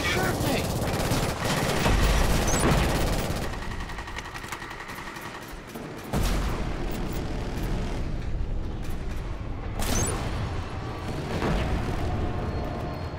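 Sustained automatic rifle fire in a Killzone Shadow Fall online multiplayer match: rapid bursts crackle loudly and almost continuously, with short pauses and distant shots, while a player talks over the gunfire.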